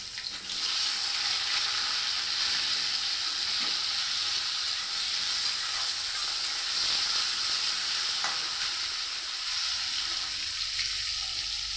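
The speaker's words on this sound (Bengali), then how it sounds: "তো টমেটো আর আমটাকে আমি দিয়ে দিব।" Chopped tomato and raw mango hit a hot frying pan and sizzle loudly and steadily, with a constant hiss of frying and light stirring close by.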